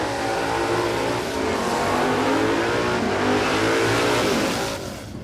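A drag racing car does a burnout during radial shootout qualifying at Warwick Dragfest, its engine roaring loud and sustained with screeching tires, a steady dense blast that fades slightly at the end.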